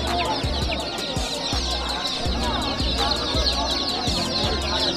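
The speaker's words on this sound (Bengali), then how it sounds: "দেশি মুরগি?" Desi hens at a poultry market cluck close by in short, repeated, rhythmic calls over a busy background murmur.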